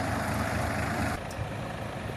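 Engines of a farm tractor and a six-wheel dump truck stuck in mud, a steady low rumble that drops in level partway through, close and continuous with no talk.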